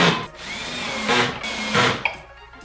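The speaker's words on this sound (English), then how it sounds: "screwed the shelves into place using 1 1/4 inch coarse pocket screws" A power drill drives 1 1/4 inch coarse pocket screws into melamine pantry shelves in a loud close run, with whining bursts of screw driving, short pauses between them and a sharp tap near the end.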